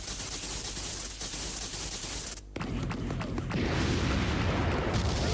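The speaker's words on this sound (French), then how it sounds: "l'explosion de fou" An explosion in a One Piece anime episode unfolds as a sustained roar of rumbling blasts and crackling, breaking briefly before surging into a heavier, louder wall of booming noise.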